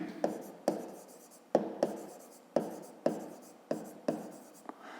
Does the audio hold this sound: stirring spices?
no